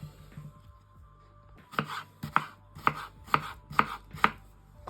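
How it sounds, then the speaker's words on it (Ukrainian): A knife slices small cucumbers into half-rings on a cutting board, six crisp, evenly spaced chops ringing out close and clear after a quiet start, with no talking. "Огірочки, якщо невеликі, нарізаємо на півкільця."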